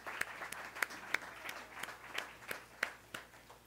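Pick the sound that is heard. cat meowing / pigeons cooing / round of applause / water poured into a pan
round of applause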